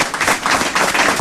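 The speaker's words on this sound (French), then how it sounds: "on t'applaudit" A studio audience breaks into brief, lively applause, a dense burst of many hands clapping close and loud for about a second.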